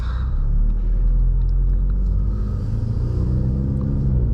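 A 2019 Ford Mustang EcoBoost pulls away with a deep, steady engine rumble heard from inside the car, a low, continuous drone that builds gently, with no talking.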